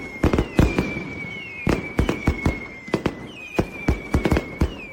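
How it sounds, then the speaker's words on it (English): Fireworks bursting outdoors during a celebration, a rapid series of sharp bangs and crackles at an irregular rhythm, with thin whistling streaks running between the loud pops. "saw the fireworks, so I stopped to watch"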